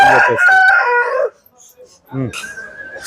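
A large, one-year-old, black-spotted Aseel rooster of about 3.5 kg crows loudly and close by in Nellore, with a long drawn-out call followed by a second crow after a short silence.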